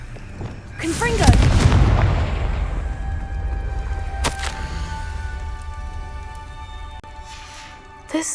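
A Confringo blasting spell from Hogwarts Legacy detonates with a loud, booming explosion that rolls into a long rumbling tail, followed by a sharp crack and a fainter burst near the end.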